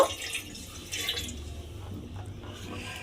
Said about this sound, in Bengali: হাফ কাপেরও ছোট কাপের হাফ কাপেরও কম আমি এর মধ্যে জল দিলাম